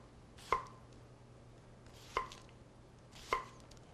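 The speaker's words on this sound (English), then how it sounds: "And you just cut those into rings." A sharp knife slicing an onion into rings on a cutting board, three separate crisp chops spaced a second or so apart, close and fairly faint over a low steady hum.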